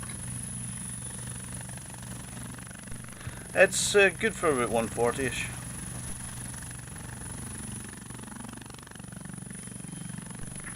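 Huey helicopter in the FlightGear flight simulator, a steady rotor and engine drone running throughout while someone talks briefly over it.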